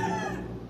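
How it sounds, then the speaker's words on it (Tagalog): Chickens clucking and squawking nearby, a dense overlapping chorus of fowl calls, fairly loud and continuous throughout. "Pasensya na po sa ingay. Madami pong manok sa kapitbahay."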